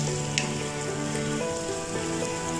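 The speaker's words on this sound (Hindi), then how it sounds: "आलूओं को 5 मिनट तक अच्छे से हम फ्राई करेंगे।" Potatoes fry in hot oil with ginger and garlic for aloo gobhi, a dense, continuous crackling sizzle like rain on a surface, loud and close throughout with a few faint clinks and no voices.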